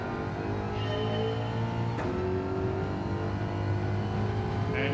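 Engine at full throttle in Gran Turismo 7, a steady sustained drone holding high revs with a brief shift blip midway, moderately loud and heard alone without any voices.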